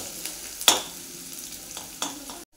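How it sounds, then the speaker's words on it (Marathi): Chopped onion sautéing in a pan for a Maharashtrian zunka, with a steady soft sizzle and a few sharp scrapes and clinks of a spatula stirring, close and alone. "कांदा, आपण 1 मिनिटभर चांगला परतून घेऊया"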